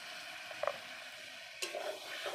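Onion paste, tomato paste and ground coriander are stirred and fried in a pan, with a low steady sizzle and a few soft scraping strokes, fairly faint.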